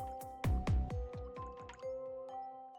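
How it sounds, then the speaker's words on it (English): Water drips repeatedly into a bucket in a video game, a quick run of wet plopping drops at a steady rhythm, fairly close and clear over a sustained tonal game soundtrack. "the water dropping into the bucket to move around"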